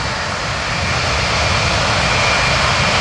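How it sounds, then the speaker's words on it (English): A Boeing C-17 Globemaster III military jet transport performs at the 2011 Wings Over Pittsburgh air show, its engines a loud, steady, close roar that fills the whole clip without letting up. "tenant Jeremy Shields, himself a C-17 pilot, describes the performance by his squadron mates on the C-17 Globemaster III"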